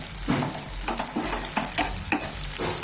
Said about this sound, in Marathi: आपण आता यात टमाटर घालू, मिक्स करून